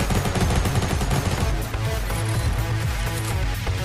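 Rapid gunfire from a Fortnite match crackles loud and dense, bursts running almost without pause, with a brief dip midway before the shooting resumes just as heavily.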